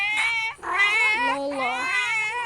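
A cat nextbot in a video game meows loudly and repeatedly, drawn-out wavering cries in quick succession with no talking.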